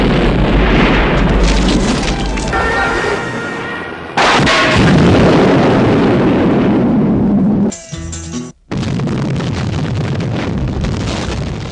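Loud, dense explosions and booming blasts from action sequences in the 2002 James Bond film Die Another Day, rumbling continuously with a brief near-silent gap before the roar resumes.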